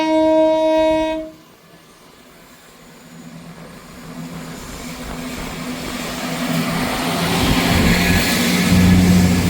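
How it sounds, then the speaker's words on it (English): A ScotRail passenger service from Aberdeen to Edinburgh Waverley pulls out of Montrose station after a brief two-tone horn. A low engine rumble then builds steadily and loudly as the train accelerates away. "Departing out there was the 1549 Scotrail service from Aberdeen to Edinburgh Waverley."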